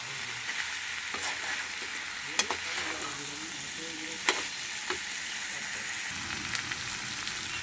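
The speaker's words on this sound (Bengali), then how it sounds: "এবারে চিংড়ি মাছ ভালো করে মিশিয়ে" Banana flower and prawns sizzle steadily in a pan while a utensil stirs and scrapes through them, with a few sharp clinks against the metal, close and fairly quiet.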